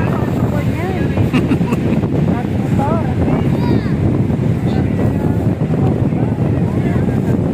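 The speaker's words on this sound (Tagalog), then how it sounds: "Malakas talaga yung hangin." Strong wind at Bagasbas beach buffets the microphone with a constant rough roar, while voices talk and shout in the background.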